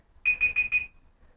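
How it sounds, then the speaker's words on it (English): An electronic alarm beeps four times in quick succession, a bright, close tone marking the end of a timed hold during a yoga session, then stops. "That's my alarm to say time is up."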